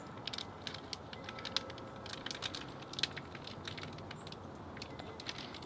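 Chocolate being grated into little shavings makes faint, close, irregular scratchy clicks and rasps in a quiet room.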